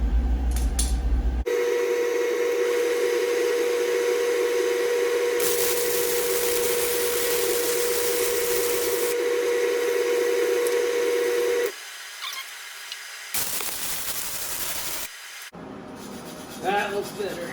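Welding on a DIY sleeve hitch scarifier-ripper gives a steady buzzing hum with stretches of sizzling hiss, then stops and leaves short quieter bursts of shop noise.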